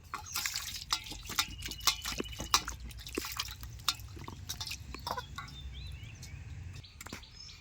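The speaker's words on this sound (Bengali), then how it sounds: "মিষ্টি আলুর আমি খোসা ছাড়িয়ে নিয়েছি, এখন আমি ভালো করে ধুয়ে নেব।" Peeled sweet potatoes are rinsed in water, with close, irregular drips, splashes and small knocks continuing throughout, fairly quiet, and a faint bird call in the background.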